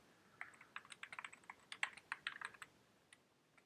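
Quiet, irregular clatter of a computer keyboard being typed on, a quick run of light key clicks with brief pauses, close and alone with no voices.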